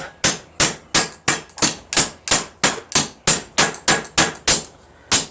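Steady, rhythmic hammering on a curled metal bracelet blank, about a dozen sharp ringing strikes at an even pace, close and loud with no speech.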